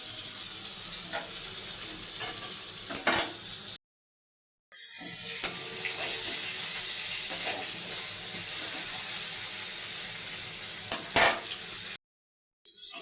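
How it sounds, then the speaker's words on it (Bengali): Pointed gourd (potol) frying in hot oil gives a steady, close sizzle and crackle, broken by two brief silent gaps; no one speaks. "পটল ভাজা হয়ে গেছে, তুলে নেব।"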